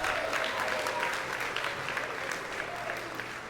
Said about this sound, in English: Let's all give a round of applause for that.